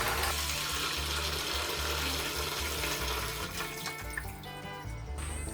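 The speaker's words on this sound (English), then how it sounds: "Now in goes our 2 litres of water." Two litres of water are poured into a freshly cleaned wine fermenting bucket for a Cabernet Sauvignon kit, a steady close gushing splash that fades toward the end.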